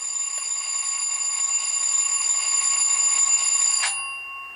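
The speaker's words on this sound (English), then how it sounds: "there's your alarm bell on 27 when the locomotive's turned off" Alarm bell from a Rapido HO scale F40PHM-2 model locomotive's LokSound DCC sound decoder, sounding with the locomotive shut down: a steady, bright electronic ringing held for about four seconds before cutting off, close and clear with no talk.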